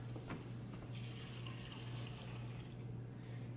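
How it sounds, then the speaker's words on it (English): Water streams steadily into a cooking pot for a few seconds, a close, continuous splashing pour over a low constant hum. "we're going to add 4 cups of water to this pot"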